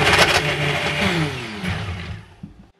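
Vitamix blender blending frozen fruit, a loud close motor whir that shifts in pitch as the contents churn, then winds down and stops near the end, with no talk.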